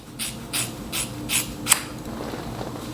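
Scissors cut across the hair of a half wig, giving five crisp snips at an even pace, close and distinct against a quiet room, with no voices.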